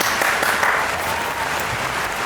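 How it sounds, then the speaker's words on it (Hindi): Dense, steady applause from a studio audience on a drama review show, loud and continuous throughout with no clear voices over it. "एडिट में तालियां डाल दीजिएगा।"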